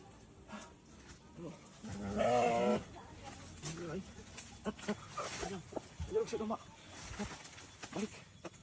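A sheep bleats loudly once in a wavering, buzzy cry amid a noisy comedy sketch scene, with people talking around it before and after.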